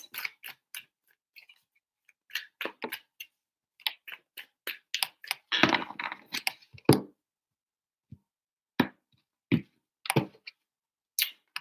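Tarot cards are shuffled in three rounds, giving scattered soft clicks and flicks with a denser riffling burst in the middle, close and quiet against near silence.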